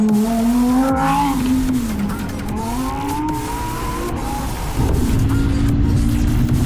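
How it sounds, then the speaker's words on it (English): A naturally aspirated V10 in a Lamborghini Huracán Technica runs loud and steady up close on a city street in Kolkata, its tone rising and falling with revs and holding a strong harmonic drone throughout. "the naturally aspirated V10 engines of the Huracans"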